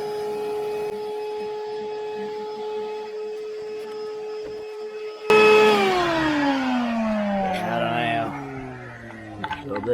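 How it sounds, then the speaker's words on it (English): A vacuum cleaner starts abruptly and winds up into a loud, whining suction roar while sucking grass clippings out of a lawnmower, following a steady tonal hum, close by with slight pitch dips. "I'm just gonna suck that out with the vacuum cleaner"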